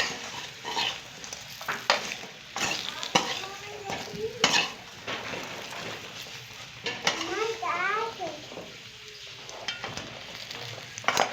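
Spiced fish fries in a pan with cumin and red chili, giving a continuous sizzle broken by scraping stirs and clinks of a utensil against the pan, with someone speaking over it.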